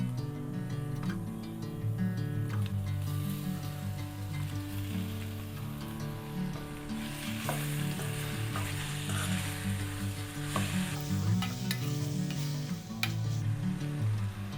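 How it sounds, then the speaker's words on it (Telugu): Chicken pieces frying in a pan for a homemade chicken curry, a loud, steady sizzle with occasional stirring scrapes and clinks running through. "సో నేను ప్రజెంట్ అయితే చికెన్ వేస్తున్నాను."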